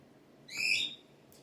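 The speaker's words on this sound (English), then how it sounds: "The bird, unfortunately, is in the background here of this process." A bird gives one brief whistling call, owl-like in tone, faint and in the background of a quiet room.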